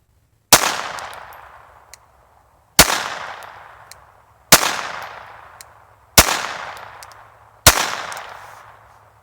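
Five sharp shots from a Taurus TX22 .22 pistol fired at steel plates, evenly spaced about two seconds apart, each with a loud crack followed by a ringing decay as the round strikes.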